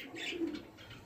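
Pigeons kept as birds for giving away coo softly through a short stretch, with faint soft chirps alongside and no voices.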